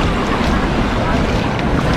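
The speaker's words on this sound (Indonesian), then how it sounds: "Dan ombak datang sini." Ocean waves washing up onto the white sand beach at Pasir Putih, Pangandaran, a steady close roar of surf and water blended with wind buffeting the microphone, continuous with no pauses.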